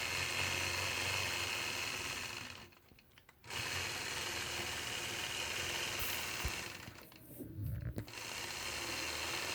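A sewing machine stitches in the ditch during machine quilting, a steady loud motor hum with fast stitching that drops out briefly twice and then resumes.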